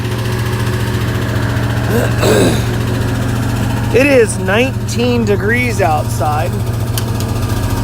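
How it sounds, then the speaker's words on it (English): A truck engine idles with a steady low rumble, its pitch rising in a couple of revs, while someone talks over it. "that wonderful noise you hear is my truck screaming at me"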